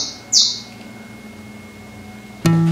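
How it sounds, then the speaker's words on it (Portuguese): A small bird lets out a short, bright chirp near the start, then faint background hum follows until a sudden tonal sound cuts in at the end. "Esse passarinho não para de cantar."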